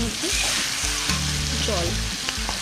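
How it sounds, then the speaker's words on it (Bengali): Chicken pieces and potatoes being sautéed in a pan for chicken kosha, a loud continuous sizzle with stirring scrapes and a faint tonal hum running underneath. "তো এগুলোকে আমি একটু ভালো করে এখন কষিয়ে নেব"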